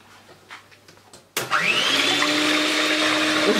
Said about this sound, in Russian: Сейчас я начинаю взбивать яйцо.